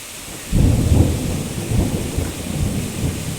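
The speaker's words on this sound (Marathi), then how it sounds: "आभाळ गरजते बघा." Thunder rolls in suddenly over a farm during a summer storm, a deep rumble that swells, fades and returns, layered over a steady hiss of heavy rain.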